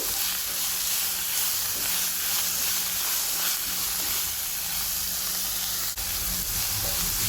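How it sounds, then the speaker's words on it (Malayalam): Onions sauté with a little salt in a hot pan for a Kerala chana roast. A steady, close, hissing sizzle runs unbroken throughout, with one faint knock near the end. "ഞാനൊരു കാൽ ടീസ്പൂൺ ഉപ്പ് ഇപ്പോൾ ചേർത്ത് കൊടുക്കുന്നുണ്ട് പെട്ടെന്നൊന്ന് ഉള്ളി വഴന്ന് കിട്ടിക്കോളും"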